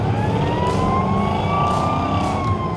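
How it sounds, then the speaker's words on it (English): An old police car's siren unit wails loud and close in a steady sustained tone with slight rising and falling pitch, heard continuously over the low rumble of the running motor. "I was after a siren unit for an old police car"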